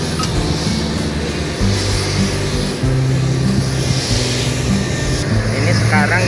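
A loud, droning aircraft engine rumbles continuously nearby at HAS Hanandjoeddin Airport in Tanjung Pandan, Belitung, with a low throbbing hum and people talking faintly underneath.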